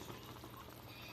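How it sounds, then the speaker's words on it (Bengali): Fresh homegrown raw tomatoes go into a pan of simmering curry gravy in a desi-style kitchen. The sound is a faint, continuous bubbling and sizzling, heard close with no talking. "এখন টমেটোটা দিয়ে দিচ্ছি আমি"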